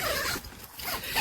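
A zipper on the single door of a CAMPROS CP 6/8 person waterproof dome tent is pulled in a brisk, close scratchy rasp with a brief pause midway.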